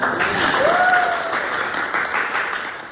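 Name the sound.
applause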